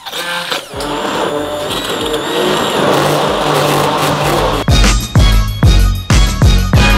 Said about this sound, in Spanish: Pilláis la batidora y a batir.